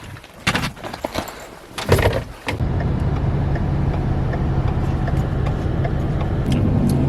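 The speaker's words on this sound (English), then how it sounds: "So right now I'm just driving along the Digby neck" A car driving along the Digby Neck road in Nova Scotia, heard from inside as a steady close road rumble and engine drone that settles in after a few door-like thumps and bumps at the start.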